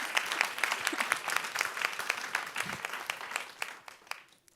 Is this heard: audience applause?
yes